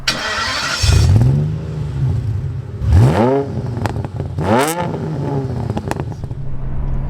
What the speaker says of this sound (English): that exhaust note that will send you weak at the knees